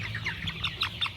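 Joper chickens cluck and chirp in quick, bright bursts, several short calls in a row close by over a low background hum.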